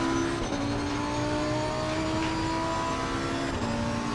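A video game car engine revs steadily at high pitch, with a brief shift in tone, continuous and fairly loud with no talking.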